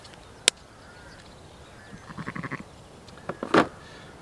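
Sheep and lambs bleating at a farm during lamb tagging, a few short calls, faint to moderate and spaced apart, with a sharp knock near the start.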